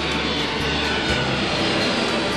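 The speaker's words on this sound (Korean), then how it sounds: "형형색색의 국기를 단 비행기들이 커다란 엔진 소리를 내며 뜨고 내리고 있다" Airliners' engines roar on take-off and landing at Incheon International Airport on Yeongjong Island: a loud, steady, broadband jet rumble that fills the whole stretch without a break or any voices.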